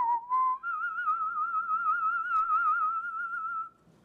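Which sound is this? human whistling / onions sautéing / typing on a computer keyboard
human whistling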